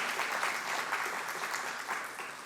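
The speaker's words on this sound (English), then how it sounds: "How about a round of applause for her?" An audience at an alumni awards ceremony gives a steady round of applause, moderately loud and continuous throughout, with no talking over it.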